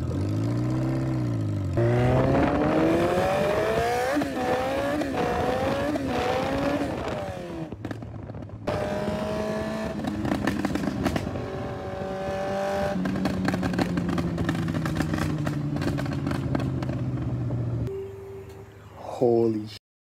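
A Honda CB750 cafe racer motorcycle on a test ride, its engine revving and pulling up through several gears in rising, falling sweeps, loud and close, with voices heard at times over the engine.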